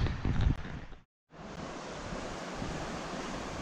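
River water in Beddgelert rushes past in a constant broadband wash, loud and near, briefly cut off then resuming steadily with some wind buffeting and no voices.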